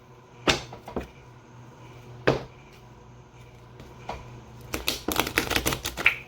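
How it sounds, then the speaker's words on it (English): Pink playing cards split in half and shuffled by hand: a few sharp isolated riffles and taps early on, then a rapid flurry of crisp card snaps near the end, close and fairly quiet. "I split these in half and shuffle them because they're pink cards"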